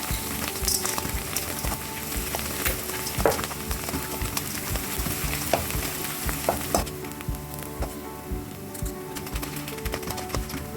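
Edible gum (gund) frying in ghee for Bohra malido makes a continuous crackling sizzle with dense small pops and occasional clicks of stirring, steady and close throughout with no talking.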